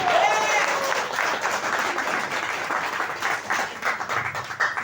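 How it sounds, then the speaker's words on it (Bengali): Audience applause at a Bangla community stage programme held by DXN in Abu Dhabi, a dense sustained clapping from a crowd that carries on steadily for several seconds with a faint voice or two mixed in. "আমি সবার জন্য একটা জোরদার তালি চাচ্ছি, জোরদার তালি।"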